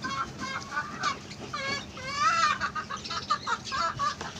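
Native country hen clucking close by in a backyard poultry setting, a run of repeated rhythmic clucks and short calls over about four seconds.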